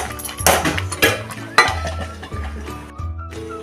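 A spoon scrapes and clinks against a pot while cooked barnyard millet rice is stirred, several close, uneven knocks and scrapes with a faint sizzle beneath.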